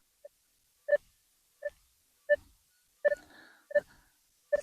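A metal detector gives a series of short, sharp electronic beeps at irregular intervals, each a clean tone with a harmonic, with faint rustling in between, while searching for meteorites.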